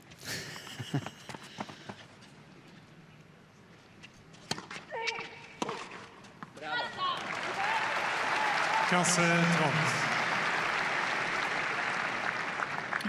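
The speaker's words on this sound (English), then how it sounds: "Crowd's trying to get behind Paolini" Tennis crowd at the Roland-Garros women's final clapping and cheering, swelling into sustained loud applause after scattered claps, with commentators talking over it.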